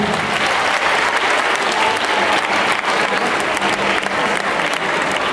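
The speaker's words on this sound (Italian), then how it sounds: "Facciamo un applauso ancora anche per i grandi musicisti." An audience applauds for musicians after a concert performance, a dense, loud and sustained wash of clapping from a full crowd that continues without a break.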